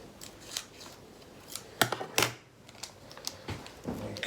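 Scissors snip open a partly frozen ready-meal sauce sachet in a series of close, crisp cuts and rustles, with sharper snips clustered in the middle and no talking.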